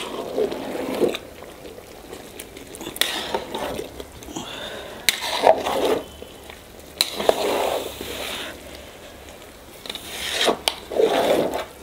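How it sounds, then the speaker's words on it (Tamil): A spoon scrapes and turns chicken biryani rice in a large pot, giving intermittent bursts of stirring and soft sizzling separated by short pauses. "இப்போ அரிசி உடையாமல் கிண்டிக்கணும்."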